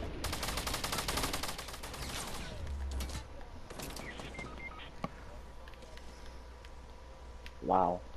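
Gunfire in Fortnite, with a dense rapid burst of shots in the first two seconds followed by scattered single cracks and clicks. It sounds moderately loud in a game mix, and voices talk over it.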